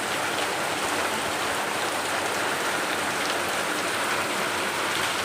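Heavy rain pours down in a steady, dense hiss, continuous and close, with no voices.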